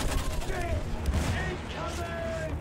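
Dense, sustained gunfire from the World War I shooter Battlefield 1 fills the whole stretch, with overlapping bursts and explosions loud and continuous throughout.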